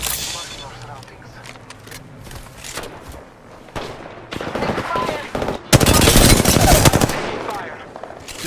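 Heavy automatic gunfire in an Apex Legends battle, long loud bursts and scattered shots building to an intense sustained volley, with a voice talking over the fighting.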